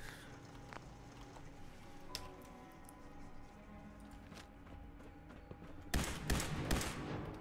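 Shots from the AQUILA laser rifle mod in Fallout 4 ring out as sharp bursts in quick succession, with scattered single reports early and a louder rapid volley toward the end.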